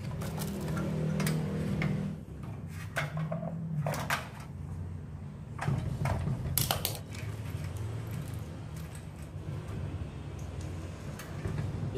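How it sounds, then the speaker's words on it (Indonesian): A bolt is fastened onto the body of a water heater's control module during repair, giving a run of small metallic ticks and clicks at close range over a steady low background hum. "Pertama kita pasang baut ke body."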